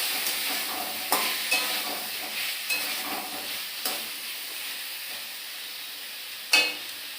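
Tomatoes frying and being stirred with pointed gourd in a pan, a steady soft sizzle under scattered scrapes and taps of the spoon, with one sharper clink near the end.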